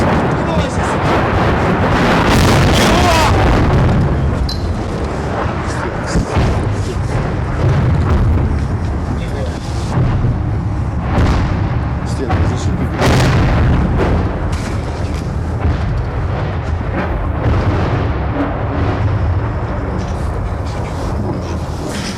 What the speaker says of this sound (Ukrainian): Це були гради, запущені росіянами по місту, які впали метрів за 300.